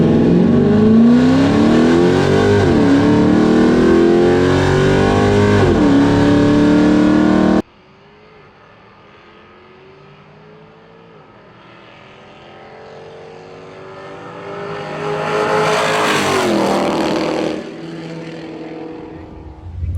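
A drag race car at a Detroit speed week event, loud and close as the engine revs high and shifts through gears, then fades and swells again as it runs down the strip, with no talking.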